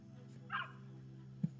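A dog in the video game The Division 2 lets out a single short bark, followed by a brief low yip, over a steady in-game ambient hum.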